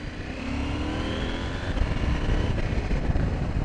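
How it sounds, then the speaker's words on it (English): A 2020 KTM 790 Adventure S motorcycle exhaust drones steadily up close, its engine pitch climbing gradually as it pulls, with no voices over it. "It's got a better noise, and the exhaust does sound quite good."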